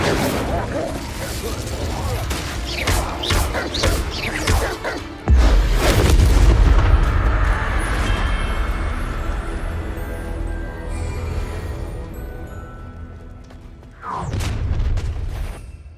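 Incendio fire spells are cast in Hogwarts Legacy, loud booming bursts and crashing mechanical clatter that swell midway and return near the end, set over continuous game sound with some speech.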